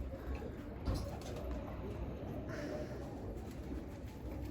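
Pigeons coo on a rooftop, soft low murmuring calls repeating under a steady outdoor background hum, with faint voices somewhere nearby.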